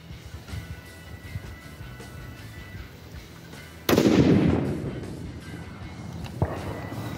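A Barrett MRAD SMR rifle in 300 Norma Magnum fires a single loud, sharp shot outdoors, its boom decaying over a couple of seconds, followed by a fainter thump amid quiet background noise.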